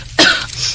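A woman cooking at a stove coughs once loudly and harshly, a sharp throaty burst followed by a rougher tail, close to the listener and with no talk.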